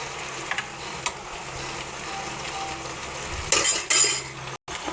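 Tomatoes sauté for chutney in a pan, with a soft steady sizzle under scraping and clinking of a spoon stirring against the metal, including a brief louder burst near the end.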